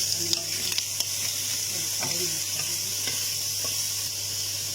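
Pork frying in a covered pan as its fat renders, a steady close sizzle with a few soft knocks and scrapes of a utensil against the pan, no voices.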